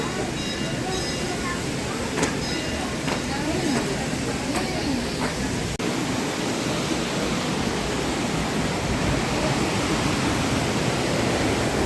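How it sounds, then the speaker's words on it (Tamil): Fast-flowing muddy stream water near Nuwara Eliya, Sri Lanka, rushing as a loud, steady broadband roar that fills the whole stretch without pause. "நான் இதுக்கு மேலே வந்த போலாம் இவ்வளவு தண்ணி வேகமாக ஓடினதில்லை"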